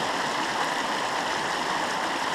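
A creek runs beside a trail in Golden Gate Canyon State Park, its water rushing as a loud, constant broadband roar with no pauses or voices.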